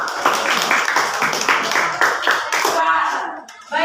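A school class claps enthusiastically for a student group, steady rapid hand claps that taper off near the end, with some voices mixed in.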